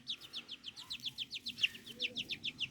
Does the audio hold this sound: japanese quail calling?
yes